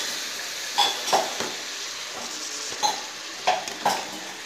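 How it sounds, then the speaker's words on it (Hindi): A spoon scrapes and clinks against a pan while radish leaves with turmeric and salt are stirred, several distinct scrapes over a soft continuous sizzle, close up with no talking. "आधा चम्मच नमक, 1/4 चम्मच हल्दी अच्छी तरह से मिक्स करके मूली के पत्ते डाल देंगे, मिक्स कर लेंगे।"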